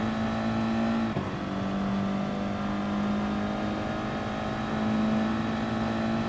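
A race car in GT Sport brakes for the Ascari chicane at Monza and drives on through the corner, its engine a steady, loud tonal drone that dips briefly as the gears change, then climbs again, no voices.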